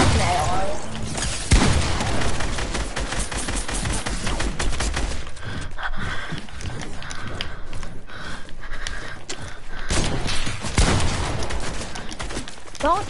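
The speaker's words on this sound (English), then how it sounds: "Noah, you're using an SMG and an AR." Video game gunfire from an SMG and an assault rifle rattles nearly without pause in dense rapid bursts, with a few heavier booms, under players talking over voice chat.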